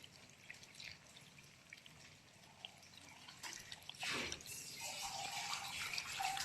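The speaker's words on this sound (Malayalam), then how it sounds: "ആവശ്യത്തിന് വെള്ളം." Water poured into a cooking pan for Kerala sadya-style koottu curry, a soft running, splashing trickle that swells into a louder gush near the end, heard alone with no talking.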